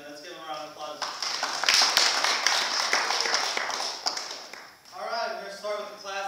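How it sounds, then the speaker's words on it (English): Audience applause at a golf tournament awards ceremony at the Country Club of Hilton Head: a burst of scattered clapping that swells in the middle and fades, with a voice talking over it at the start and end. "Let's give them a round of applause."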